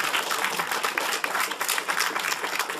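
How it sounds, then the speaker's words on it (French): Brief, dense clapping from an audience at a youth-centre event, close and continuous with no voices breaking through. "Je vous demande d'applaudir Nicolas et Tony"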